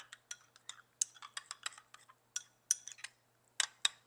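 A spoon works through a meatloaf topping with Calabrian peppers in a bowl, making quick irregular clicks and scrapes, close and fairly quiet, with no talking.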